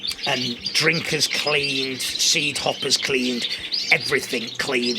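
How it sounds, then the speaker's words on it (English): Canaries chirp and trill throughout a busy indoor bird room during the moult, a constant high twittering bed that runs beneath someone talking close up. "So you can probably hear the birds are singing sort of quite lustfully at the moment."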